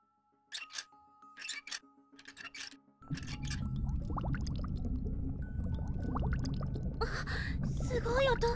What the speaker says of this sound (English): Okay, the pool water should be drained now.